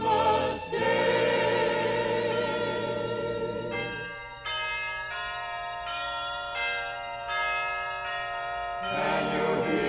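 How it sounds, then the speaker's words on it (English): Church bell in a spire tolling slowly, a few deep, resonant strikes that ring out and fade between blows, heard clearly on its own without talk. "Can you hear the bell in the church spire tolling so slowly"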